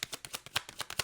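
Tarot cards shuffled by hand during a reading, a quick series of about ten crisp riffling snaps in steady rhythm, close and quiet with no talking.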